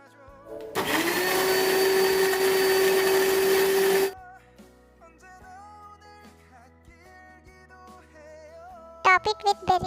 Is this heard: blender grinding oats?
yes